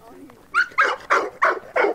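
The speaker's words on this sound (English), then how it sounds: "That puppy is a little loud back there." An excited puppy gives five quick, loud barks in a steady rhythm close by after a moment of soft whining, with nobody talking.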